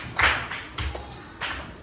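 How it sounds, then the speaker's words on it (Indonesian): A classroom of students claps in unison, three separate, evenly spaced claps, each a short sharp burst fairly close by. "Beri tepuk tangan dulu semua"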